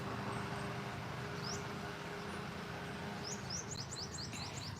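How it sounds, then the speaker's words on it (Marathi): A small bird gives a quick run of thin, high chirps against a steady hum of distant traffic, faint at first and then more frequent. "छोटूसा एकदम छोटूसा पक्षी आहे हा बघा एका फांदीवरून दुसऱ्या फांदीवर जाते"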